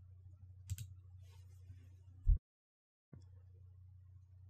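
A single sharp computer mouse click saving a screenshot in Windows 7's Snipping Tool, close and clear over a low steady hum, followed by a brief dropout to silence.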